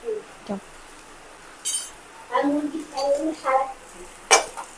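A grandmother scrubs and washes dishes in a home kitchen, with intermittent clinks and scrapes of metal pots and utensils in irregular bursts and a few sharp rattles, moderately close.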